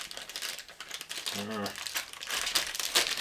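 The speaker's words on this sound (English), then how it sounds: "We'll just tear our way in because we're impatient." Packaging of a Meng 1/24 Ford GT40 MK II model kit is torn open with crisp crinkling and ripping up close, while a person talks over it.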